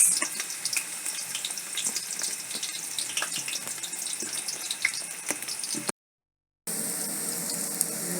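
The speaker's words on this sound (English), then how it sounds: "I'm continuing to brown the onions" Onions and spring onions frying in a pan, a steady crackling sizzle with scattered pops that cuts out briefly near the end and then resumes, with no talking.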